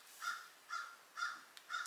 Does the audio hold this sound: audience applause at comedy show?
no